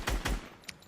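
Two loud, punchy gunshots from a Fortnite game, fired in quick succession in the opening half, followed by a faint high chime and quieter game ambience.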